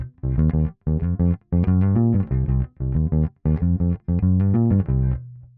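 Electric bass guitar playing a hybrid of two everyday bass line patterns, a steady run of short, punchy repeated notes in uneven groups with brief gaps between phrases, close and alone with no talking.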